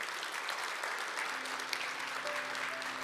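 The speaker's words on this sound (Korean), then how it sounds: "다시 박수로 인사 주시죠." Steady audience applause fills a lecture hall at a Korean peace-building forum session, dense and continuous throughout with a faint tonal hum beneath.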